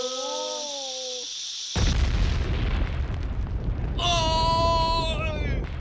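A cartoon bomb explosion bursts in with a sudden loud rumbling blast that lingers, framed by bright whistling tones and a high squealing cry.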